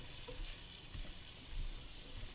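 Garlic and onions frying in a pan on a campervan stove at the beach, a soft, steady sizzle with faint stirring scrapes, quiet and without talk.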